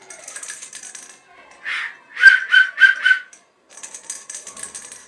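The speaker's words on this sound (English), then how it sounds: "This is a whistle." A toy whistle is blown in a series of short shrill tweets, five bursts close together and loud, between softer rattling toy sounds.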